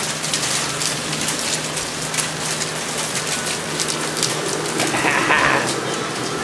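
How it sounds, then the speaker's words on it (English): Hail pelting down outside an open garage where a 1968 Chevelle is being worked on, a dense, steady hiss of pattering ice across the whole stretch with no talk. "It's hailing."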